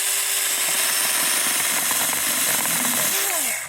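A mini cordless handheld chainsaw cutting through wood, loud and close, its motor whining steadily with the blade buzzing and rasping through the cut before it winds down at the end.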